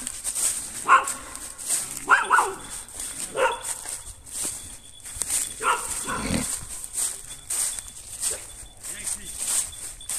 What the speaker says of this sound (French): Tiens, il y a un chien.